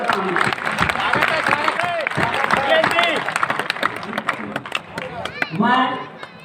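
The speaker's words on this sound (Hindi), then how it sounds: "ताली बजाइए" Audience applause at a Hindi comic poetry gathering, a dense burst of clapping and crowd noise from a large room, with voices talking over it and a brief final swell near the end.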